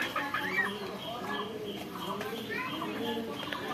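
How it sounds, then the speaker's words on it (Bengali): A chicken clucks among ducks feeding on plant leaves in a farmyard, with soft intermittent clucks and cooing beneath someone talking over continuous outdoor background noise. "এই যে মুরগিটা আসলে ভয় পাচ্ছে সেখানে খাবে কি না"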